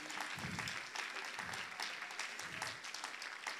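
A church congregation claps in rhythmic bursts after a gospel song, several waves of applause close together, fairly quiet and without speech.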